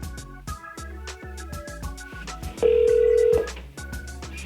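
Phone call through an Amazon Echo Dot with Clock smart speaker: a repeating melodic ringtone pattern of short tonal notes plays at moderate volume, with one sustained steady tone partway through, no voices.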